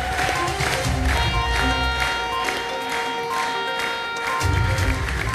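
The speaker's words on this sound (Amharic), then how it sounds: "አጨብጭቡለት ለዚህ ወንድማችን።" Congregation clapping and cheering in a church service, a broad crowd-wide wash of applause that swells again near the end, fairly loud and continuous.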